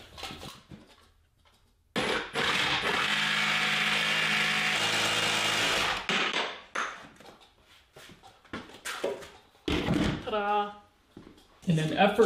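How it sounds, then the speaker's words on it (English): A jigsaw cuts an angle off a piece of wood for a screw and fastener wall organizer, a loud buzzing burst lasting about four seconds, followed by clunks, handling noises and a voice speaking. "I'll whack that off with a jigsaw"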